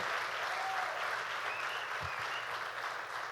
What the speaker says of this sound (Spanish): give a strong round of applause to the Lord